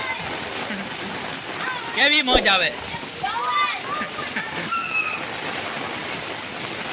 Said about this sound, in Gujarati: અને બધા છોકરા નાના નાના બધા અહીંયા નાહી રહ્યા છે